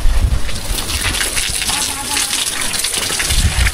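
Water gushes in a strong, steady rush, close by and continuous for the whole stretch, with voices faintly mixed in.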